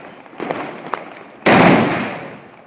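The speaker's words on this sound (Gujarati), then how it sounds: "નાનો એવો ફટાકડો તતડિયો પણ કેટલો એનો અવાજ દે અને ધુમાડો કેટલો કાઢી રહ્યો છે" A small firecracker crackles with a few light pops before bursting in a sudden loud blast that fades out over a second or so, heard close up with no talk.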